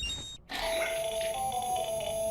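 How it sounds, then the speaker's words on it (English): Hartman's ringtone in Death Stranding, a sped-up funeral march, rings as a bright electronic melody with sustained tones after a brief gap, steady and fairly loud with no talk. "Hartman's ringtone is a sped-up funeral march."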